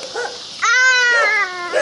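A dog gives a single short, high whining yelp lasting under a second, close and fairly loud, with no talking.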